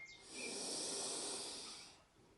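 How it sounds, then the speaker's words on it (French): A single long, deep breath drawn in through the nose during a calm guided relaxation for children, a soft airy hiss that swells and then fades over about two seconds, close and quiet with no talking. "Et de prendre 3 grandes respirations avec l'air qui entre par ton nez."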